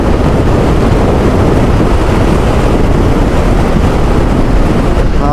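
Heavy, constant wind roar buffets a rider on a BMW F900 GS Rally motorcycle with a short screen at around 70 mph on a windy day. The loud, steady rushing blast fills the whole stretch without a break.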